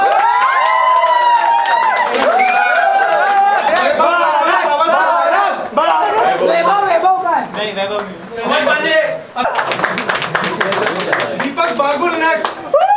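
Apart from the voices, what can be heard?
audience clapping and cheering for Bharat Vimal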